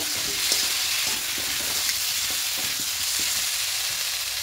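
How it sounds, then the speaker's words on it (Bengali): Ground coriander, cumin and turmeric sautéing in hot oil for a rice and lentil khichuri, a steady close sizzle with light scraping of a stirring spoon, no talking. "এবার একটু ভালো করে একটু কষিয়ে নেব"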